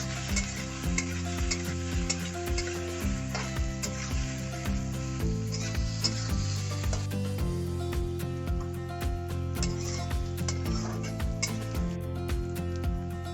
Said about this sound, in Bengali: এখানে আমি হাফ চামচ নুন দিয়ে দেব, যাতে পেঁয়াজটা তাড়াতাড়ি ভাজা হয়ে যায়